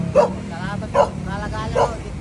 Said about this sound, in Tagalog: Ang dami niya pong aso.